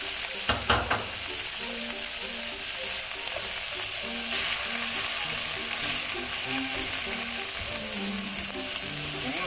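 Finely diced shallots and garlic fry in a splash of oil for a creamy garlic chicken dish. A steady, close sizzle runs throughout, broken by a few clattering knocks of a utensil in the pan near the start.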